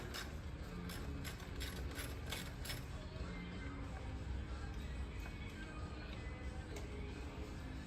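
A ratchet wrench clicks steadily up close, loosening quarter-inch Allen and half-inch bolts on a 1987 Harley-Davidson FXR motorcycle over a continuous background hum.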